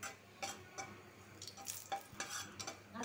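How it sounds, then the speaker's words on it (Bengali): An egg frying in a pan alongside chillies and potatoes, a soft continuous sizzle broken by occasional stirring clinks of a spatula, close but quiet, with no voices. "ডিমটা আগে একটু ভাজা নিব।"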